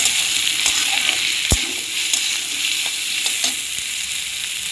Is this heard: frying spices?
yes